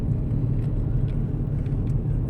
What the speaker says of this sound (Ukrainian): зараз провіримо, як машина гальмує